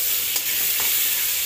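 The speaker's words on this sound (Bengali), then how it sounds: "আলুটা একটু ভাজা ভাজা করে নেব" Potatoes with salt and turmeric fry in a hot pan, giving a close, steady sizzle with a couple of soft stirring scrapes.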